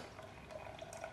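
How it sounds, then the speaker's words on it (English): Hot water poured into a cup to dissolve espresso-shot ingredients for a pistachio rose latte, a brief soft steady liquid trickle heard close up with no talk. "we're gonna add 30 grams of hot water to this"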